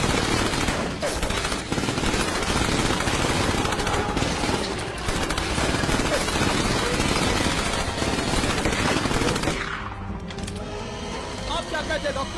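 Dense, continuous gunfire from many guns firing at once in a Hindi-dubbed Hollywood adventure movie, loud and sustained for about ten seconds before easing into a quieter rumbling tail.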